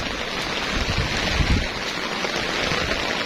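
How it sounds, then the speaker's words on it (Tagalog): Steady rain hissing down in cold weather in Trinidad, Benguet, a dense even patter filling the background with no voices, moderately loud and constant throughout. "Dito sobrang lamig, umuulan pa rin."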